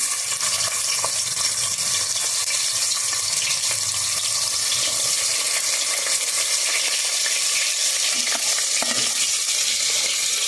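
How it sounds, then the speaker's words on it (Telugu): Onion pieces dropped into hot oil, a continuous loud hiss of frying that holds steady throughout, close up with no talking. "ఇప్పుడైతే నేను ఉల్లిపాయ ముక్కలు వేస్తున్నాను"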